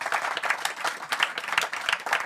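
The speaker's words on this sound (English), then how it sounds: "maybe give it an applause for Ali" Audience applause at a live event in eastern DR Congo, steady dense clapping from a crowd close by, lasting the whole moment without speech.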